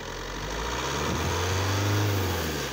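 A car engine held steady at about 2500 rpm during a battery, starter and alternator check, a loud continuous hum with a low tone that rises and settles partway through, close by with no talking.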